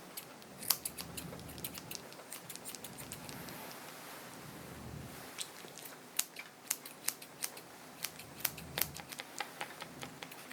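Grooming scissors trim a Havanese puppy's fur around the face with rapid, crisp snips. The snips come in close, irregular bursts with brief pauses between them, and no voices can be heard.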